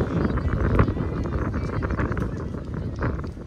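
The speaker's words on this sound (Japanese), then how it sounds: "今日もちょっと風が吹いているから" Wind gusting outdoors at a youth under-12 football tournament, a steady low rumbling buffet against the microphone with faint background sounds and no clear speech.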